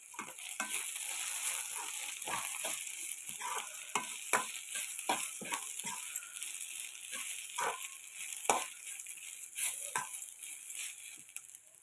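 Brinjal fry sizzling in a pan with spice powder, a steady hiss broken by frequent scraping stirs of a spatula close up, no talking.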